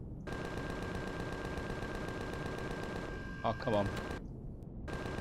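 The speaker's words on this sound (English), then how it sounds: "I'm firing right at you." Gunfire in Empyrion Galactic Survival, a steady, fast repeating stream of weapon shots over a constant hum that stops suddenly near the end, with someone briefly speaking over it.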